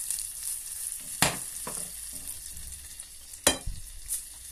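Butter and chocolate melting together in a pan over gentle heat for a chocolate cake give a soft, steady sizzle, broken by a few sharp clinks and scrapes of stirring.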